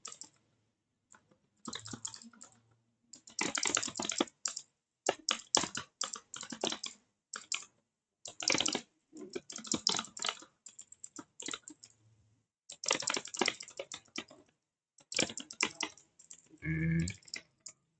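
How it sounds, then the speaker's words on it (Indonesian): Programming template typed on a computer keyboard during a competitive informatics problem walkthrough, bursts of rapid close key clicks separated by short pauses, with a brief thud near the end. "aku bakal ketik template aku dulu"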